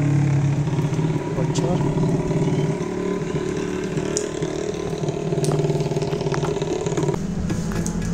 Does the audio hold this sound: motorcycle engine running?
yes